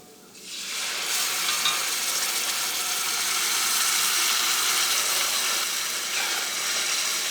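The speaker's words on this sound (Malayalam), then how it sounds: "ഇതിലേക്ക് നമുക്ക് വേവിച്ച് വെച്ചേക്കണ ബീഫും കായും ചേർക്കാം." Cooked beef and raw banana hit hot spiced oil with fennel seeds, setting off a loud, steady sizzle that starts abruptly and continues unbroken, close by, with no voices.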